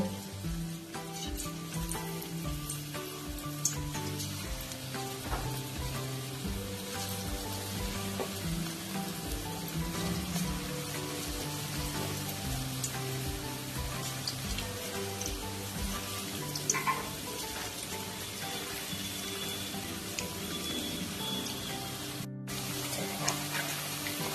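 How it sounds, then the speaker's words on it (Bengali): Gondhoraj chicken pieces frying in hot oil make a steady, close sizzle with crackling pops and occasional stirring noises, continuous throughout. "এই একইভাবে সব চিকেনগুলোকে আমি ফ্রাই করে নেব।"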